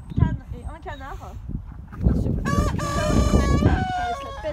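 Hens and a rooster near a farm pond cluck and crow, with a loud, drawn-out cock-a-doodle-doo in the second half and a person talking alongside.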